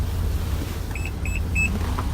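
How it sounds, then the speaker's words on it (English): A 2019 Nissan Pathfinder SL power liftgate gives three short, evenly spaced electronic beeps over a steady low motor hum as it begins to close, heard outdoors up close. "I give a kick, I hear 3 beeps telling me to step back, and the power liftgate closes"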